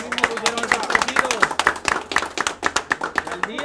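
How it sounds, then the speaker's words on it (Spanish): An audience at a truck bash show claps for the truck owners in quick, uneven bursts that rise and fade over a few seconds, with a voice speaking over the clapping. "un aplauso para ellos mismos"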